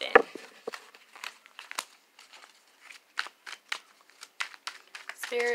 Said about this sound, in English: Watch me shuffle these cards a bit.